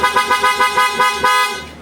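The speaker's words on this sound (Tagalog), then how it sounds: "sound check tayo kung gaano kalakas ang PIAA Auto Style" A PIAA Auto Style car horn fitted to a Suzuki Espresso sounds in a rapid series of loud, close, bright toots, about eight short pulsed blasts in quick rhythm, alone with no talk.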